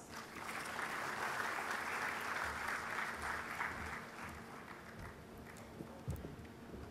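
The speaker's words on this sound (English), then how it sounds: "Please welcome him with a round of applause." An audience applauds to welcome surgeon Dr. Ashwin Porwal as a guest speaker at a GDG talk on lifestyle diseases. The clapping is steady, dense and sustained, then thins a little near the end.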